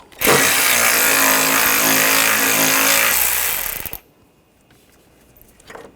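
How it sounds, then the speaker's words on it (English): A loud power ratchet or impact tool running steadily for several seconds on bolts with a 10mm socket, close by, on the intake runner of a 2002-2006 Honda CR-V 2.4L, then stopping abruptly. "we're going to take these bolts out, use a 10mm socket"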